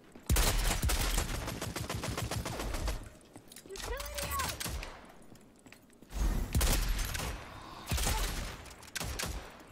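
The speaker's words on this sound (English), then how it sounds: "Those Saints in the back shooting" Rapid automatic gunfire in the online shooter Rogue Company, dense bursts of shots with brief pauses, loud and close, with a voice talking between the volleys.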